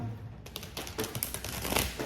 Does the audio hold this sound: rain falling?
no